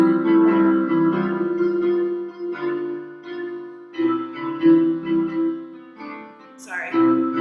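Piano playing a short hymn excerpt with a rolling right-hand melody over left-hand chords, moderately loud and near, phrases swelling and pausing in a steady hymn rhythm.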